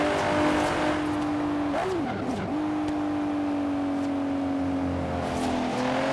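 Steady engine drone of a Porsche Macan cruising on a highway in the Forza Horizon 3 racing game, a constant hum that dips briefly as the engine note shifts before settling back, with no talking.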